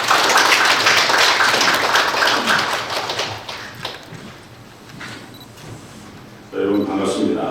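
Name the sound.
audience applause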